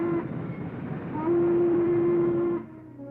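A Norfolk and Western steam locomotive runs with a heavy, steady rumble, joined midway by a sustained whistle tone that cuts off as the roar fades slightly.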